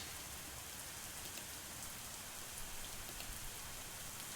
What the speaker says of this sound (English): the rain continues to bear down on us